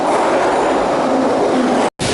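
Saint Petersburg metro train running underground, a steady loud roar of wheels and motor filling the car, with a brief cut near the end.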